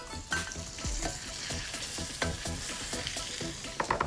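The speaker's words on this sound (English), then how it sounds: "I'm getting my squid in now because I want it to sear really nicely" Squid sears in a hot wok with a loud, constant close sizzle, broken by scraping stir strokes and occasional sharp clinks of a utensil on metal.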